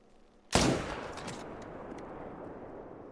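A single sharp rifle gunshot from a hunting video game, fairly close, cracks out after a quiet moment, followed by a long decaying echo rolling away.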